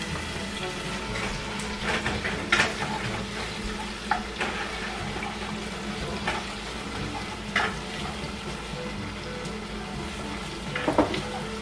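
Food frying in plentiful cooking oil in a home kitchen, a steady close sizzle and crackle with occasional louder spits and stirring clatters throughout.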